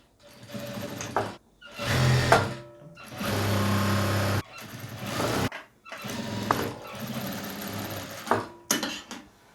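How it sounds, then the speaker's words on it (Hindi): Sewing machine stitching the lining of an off-shoulder blouse at the neckline, running in several bursts of steady whirring separated by short pauses, close and fairly loud with no talking. "हम यहाँ से स्टिचिंग लगाएंगे।"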